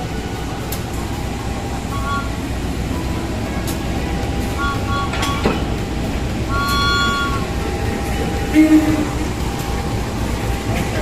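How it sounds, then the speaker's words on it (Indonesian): Train cars and a CC 018905 locomotive from the Madiun depot being coupled at a station, with a steady rumble, a few clanks and short whistle-like tones over constant background noise. "Kita coba lihat detik penyambungan lokomotifnya."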